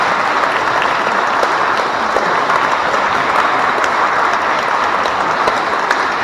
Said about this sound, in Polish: Gorąco brawo.